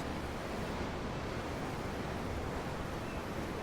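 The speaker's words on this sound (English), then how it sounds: "I'm looking at the ocean. The ocean? Yeah. The waves." Ocean waves in the Tales of Arise video game give a steady, broad wash of surf noise heard alone, with no talk, as seen from a ship at sea.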